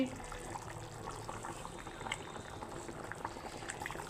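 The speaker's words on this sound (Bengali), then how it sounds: "এই দেখুন বন্ধুরা এখন ফুটে গেছে একদম তো হয়েই গেছে সেদ্ধ হয়ে গেছে মাছগুলো" Rohu fish curry with papaya, potato and green banana boils in a pot, a steady, close bubbling with soft irregular pops and no voices.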